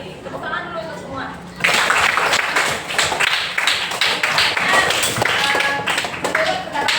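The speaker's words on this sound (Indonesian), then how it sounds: "Tepuk tangan dulu untuk semua." Classroom students clap their hands together in a lively burst of applause that starts abruptly after some quiet murmuring and holds steady for several seconds, close and fairly loud.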